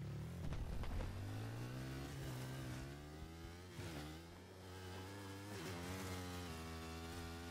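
Motorcycle engine in the video game Battlefield 3, a steady mid-pitched drone that rises and falls as the bike accelerates and revs, loud and continuous throughout.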